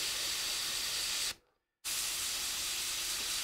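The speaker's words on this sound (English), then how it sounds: "you spray a light circle like this, right?" An airbrush spraying paint onto a latex mask gives a steady, close hiss that cuts off briefly for about half a second, then resumes just as loud and continuous.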